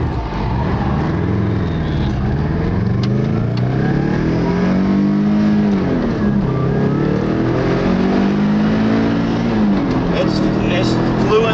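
A Subaru car fitted with a Porsche engine drives and accelerates through the gears, its mid-pitched engine note rising and falling with each shift, loud and close from inside the car, with people talking over it.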